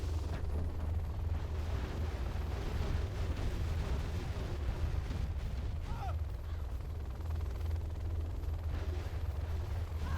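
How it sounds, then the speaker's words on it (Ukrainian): Helicopters trade fire in a Generals Zero Hour match, a continuous loud rumble of explosions and gunfire with dense low-end booms and scattered bursts throughout, played under no audible talk. "Зараз два Хелікса зустрінуться один з одним. Обмінялись пострілами."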